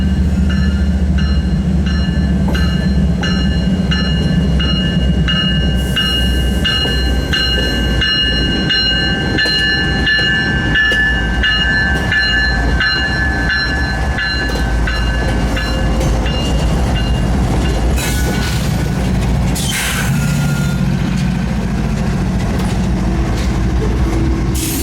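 Union Pacific Centennial 6936 diesel locomotive passes close on the former Rock Island mainline, a steady loud rumble of engine and rolling wagons with clattering wheels and squealing tones throughout.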